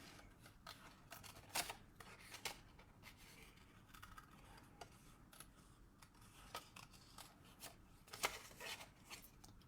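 Scissors snipping a small Christmas bauble shape from paper, a faint, close series of light crisp cuts and rustles spaced irregularly over a quiet background, without talking.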